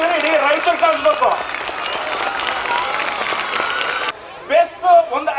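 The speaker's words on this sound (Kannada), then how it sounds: "ಅಭಿಜ್ಞಾನ ಶಾಲೆಗೆ ಜೋರಾಗಿ ಚಪ್ಪಾಳೆ ತಟ್ಟಬೇಕು" An audience at a school annual day ceremony bursts into loud, sustained applause and cheering that fills the room for several seconds. A voice speaks before and after it.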